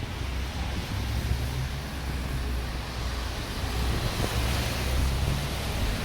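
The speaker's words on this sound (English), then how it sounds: "Oh, there's a lot of wind." Wind blows outdoors along a downtown street, buffeting the microphone with a steady, rumbling low roar that swells and eases over a few seconds, with no voices.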